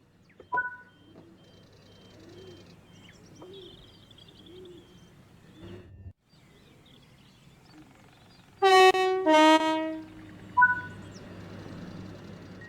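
Southeastern High Speed Extension train in Train Sim World 3: a low cab hum and soft electronic chimes, then a loud two-tone horn blast with a short second toot near the end.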